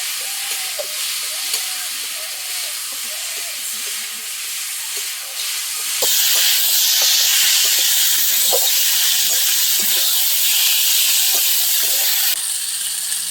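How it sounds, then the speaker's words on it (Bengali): Malabar spinach and pumpkin fry with ginger-garlic paste in a pan for a crab curry, a soft hiss that jumps to a loud, steady sizzle partway through, with a few faint utensil clicks. "এবার পুঁই এবং মিষ্টি কুমড়া দু তিন মিনিট কষিয়ে নেব"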